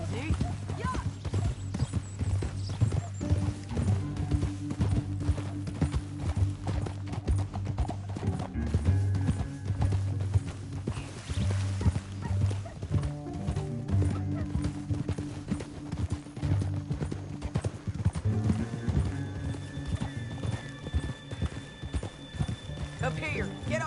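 Horses trot and clip-clop through a canyon in Red Dead Redemption 2, a steady run of hoofbeats with an occasional whinny, heard under spoken dialogue and music.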